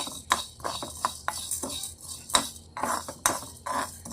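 Coriander seeds and cumin are dry roasted in a pan without oil, with a spoon scraping and clinking against the metal in quick irregular strokes, close and fairly clear, with no voices.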